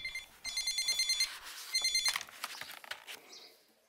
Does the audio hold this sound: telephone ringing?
yes